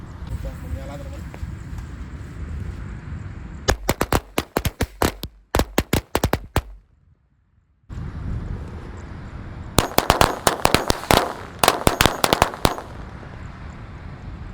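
Corsair XXL firecrackers exploding outdoors, two rapid crackling volleys of sharp bangs in quick succession separated by a brief silence, loud and close.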